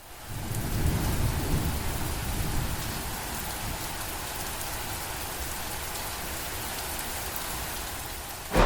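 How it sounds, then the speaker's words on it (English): Steady rain falls outdoors in the UK with a dense, continuous hiss of drops hitting surfaces, loud and unbroken throughout with no voices. "in typical UK fashion, it has started raining"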